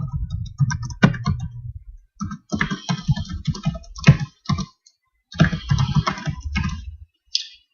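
Someone types a username and password on a computer keyboard to sign in: close, crisp bursts of rapid keystrokes broken by short pauses, with no voice.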